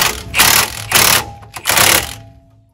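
Three short, loud whirring power-tool bursts, evenly spaced and close, as the last bolts of a wheel hub assembly are tightened during a Dodge Ram 1500 front end rebuild.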